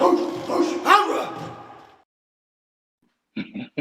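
A dog barks and yips near the microphone in a brief cluster, first mixed with indistinct voices, then after a short silence a few sharp barks return.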